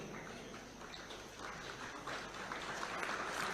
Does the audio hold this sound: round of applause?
yes